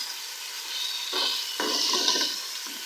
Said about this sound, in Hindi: अब हम लोग बीफ को प्याज के साथ फ्राई करेंगे